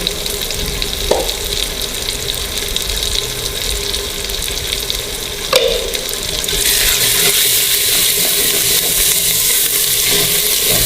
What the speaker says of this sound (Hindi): मसाला भुन रहा है हमारा